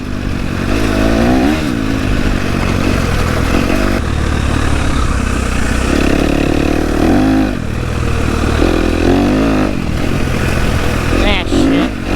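A Husqvarna FC250 dirt bike engine revs loud and close throughout, its buzzing note rising and falling with throttle blips, with a rider's voice partly mixed in.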